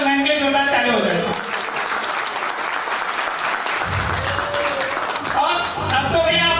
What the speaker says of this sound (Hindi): तो मैम के लिए जोरदार ताली हो जाए।